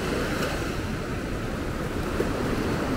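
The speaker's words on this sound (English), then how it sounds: "Some of these waves are getting big." Continuous roar of big ocean surf at El Paredón, Guatemala, waves washing and breaking steadily with wind noise buffeting in the background.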